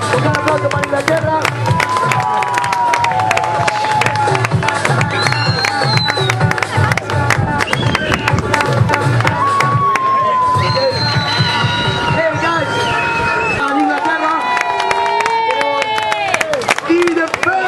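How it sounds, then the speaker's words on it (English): Crowd at a soccer World Cup event cheering and applauding for England, a loud mix of clapping, shouts and children's cries with raised voices running through it for the whole stretch. "Big applause for England."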